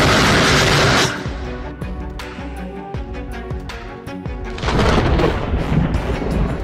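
Loud rumbling thunder from a nighttime thunderstorm, a broad booming roll at the start that fades into softer rumbles before swelling again near the end.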